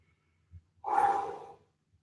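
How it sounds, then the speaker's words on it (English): A deep breath during a lower body strength workout at home: a short sniff, then one long, close, breathy exhale that fades out, quiet and alone. "Big deep breaths as you do it."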